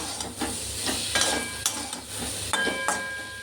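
Boiled potatoes with salt being stirred in a hot pan, a steady sizzle broken by repeated scraping strokes of the spoon at an even, unhurried rhythm, close and clear with no talk.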